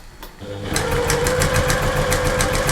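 A sewing machine stitches a cuddly toy bear, starting after a brief pause and then running at a steady, rapid mechanical whir close by.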